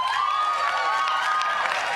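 An audience at a postgraduate commencement ceremony in San Francisco claps and cheers in a steady wash of applause, with a few shouting voices on top.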